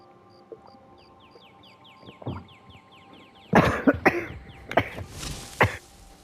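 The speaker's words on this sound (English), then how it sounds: "I'm sorry for the coughing." Several harsh coughs from a person with a cold, a single one first and then a close burst of rough coughs, over faint background game sounds with chirping bird calls.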